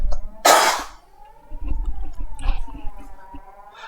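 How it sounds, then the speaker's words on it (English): A single loud, harsh cough bursts out near the start, close and alone, followed by quieter murmuring and soft background sounds. "Hold on, I gotta cough a bit."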